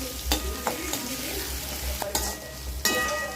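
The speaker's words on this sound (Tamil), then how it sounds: "வெங்காயம், மிளகா, வரமிளகா கேரட்டும் போட்டுக்கணும். இதெல்லாம் வதக்கி விடுங்க." Onion, green and dried red chillies and carrot fry in a pan for upma while a spatula stirs, sharp scrapes and taps landing at irregular intervals over a constant sizzle, up close and without speech.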